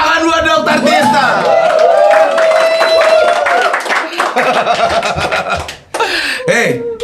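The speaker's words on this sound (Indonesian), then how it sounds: "Tepuk tangan buat Dokter Tirta." An audience applauds for Dr. Tirta at a podcast taping, with clapping mixed into loud laughter and chuckling from several people and bits of talk throughout.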